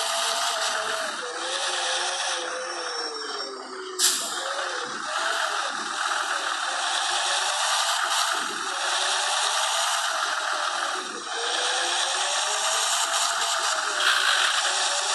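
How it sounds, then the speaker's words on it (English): Gears grinding on a MAN Lion's Coach in Public Transport Simulator, a harsh mechanical rasp over a constant engine hum, with a sharper catch partway through and no voices. "Sorry about the gear grinding, folks. But sometimes I touch a gear and it grinds on me."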